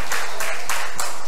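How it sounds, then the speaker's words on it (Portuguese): Church congregation clapping during a sermon, a loud burst of applause with rhythmic pulses of hands striking together, steady and close throughout with no voices over it. "Ou aplauda ou não aplauda a Jesus."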